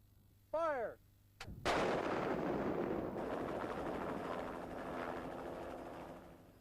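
Loud artillery blast for avalanche control on a mountain road, a sharp boom followed by a long rolling rumble and echo, with a helicopter's steady drone underneath and a brief shout just before the shot.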